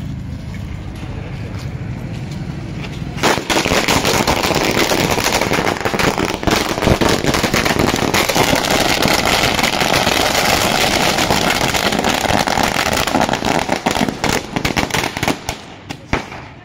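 Firecrackers burst at an outdoor village celebration, a dense, loud, continuous crackling barrage of rapid pops that goes on for many seconds before thinning out toward the end.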